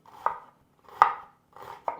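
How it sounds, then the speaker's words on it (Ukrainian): A knife chopping onion into half rings on a cutting board, four crisp strikes at an uneven pace, each followed by a short scraping slide. "А цибулю нарізаємо ось такими півкольцями"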